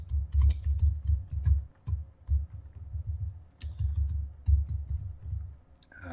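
Fingers typing on a computer keyboard while coding HTML, bursts of quick soft key clicks with a muffled low thump under each group, close up, pausing briefly between runs, no talking.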